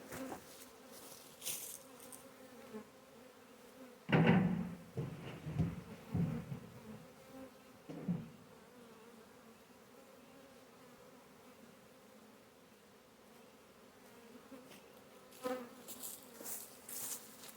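A honey bee swarm picked up in downtown New Bern hums in a low, steady drone with louder bursts of close buzzing early on and again near the end, without any talk.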